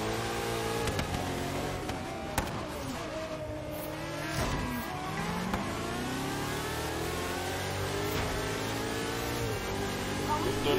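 Ferrari 599XX racing in Forza Horizon, its engine revving up and down through shifts with brief tire squeal, loud and close, with someone talking over it.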